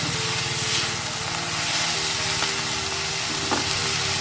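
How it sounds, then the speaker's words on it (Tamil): Vallarai keerai poriyal sizzles gently in a pan on the stove as it is stirred, giving a soft, continuous frying hiss with faint scraping touches, heard close up without any talking. "இப்போ நம்ம கிளறி கொடுப்போம்."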